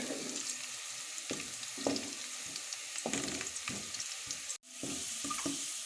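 Steady sizzling of onions frying in a pan until lightly golden, with soft scrapes and knocks of stirring every second or so; no talking.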